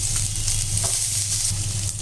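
Ginger, garlic and onion sauté in a hot pan with oil, a dense continuous sizzle with a low rumbling hiss, loud and close, stirring faintly underneath, no voices.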